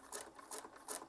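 A sewing machine stitches a straight seam around a small paper envelope booklet, giving three quick, evenly spaced bursts of faint mechanical whirring and clatter.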